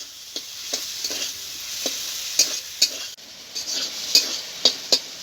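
A spatula stirs fried potatoes in a pan with a series of distinct, evenly spaced scraping knocks over a faint, low sizzle, close by and without speech.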